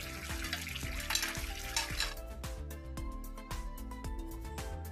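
Boiled vegetables for Bengali sukto being stirred together with fried bitter gourd and bori in a pan, a steady sizzle with repeated soft scraping strokes of the spoon, close and continuous.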